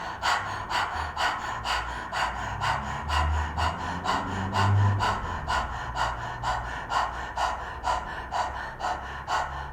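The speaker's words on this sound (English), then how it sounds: "carry on with the dog panting for a couple of rounds" A person doing rapid dog-panting breathing through the open mouth during a stress-relief exercise, a fast, even series of sharp, breathy in-and-out puffs repeating close to the microphone for about ten seconds, with no talking.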